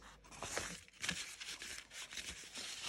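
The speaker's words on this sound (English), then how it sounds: "I'm going to start by crumpling the two bow ends" Book-page paper is crumpled for the ends of a craft bow, giving a run of dry crinkling and crackling that comes in irregular bursts, quiet and close, with no talking.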